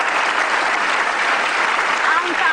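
Studio audience applause on an Indonesian television talk show, a steady, even roar of clapping filling the whole moment with a brief voice near the end.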